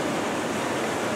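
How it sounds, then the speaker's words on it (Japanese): Big storm-driven waves and surf crash near Najima off Hayama during a bomb cyclone, a dense continuous roar mixed with wind noise. "この名島の方がね、すごい波だから"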